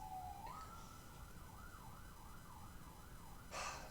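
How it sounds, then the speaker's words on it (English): Police sirens pass outside a bar during Friday night trivia, one wailing tone rising and falling in steady sweeps, faint and distant under room hum, with a brief burst of nearby noise near the end. "we got some cop sirens going by"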